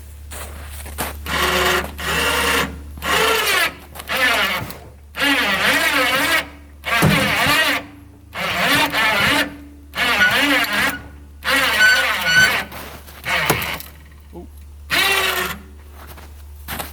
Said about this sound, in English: We're slowly winching it on.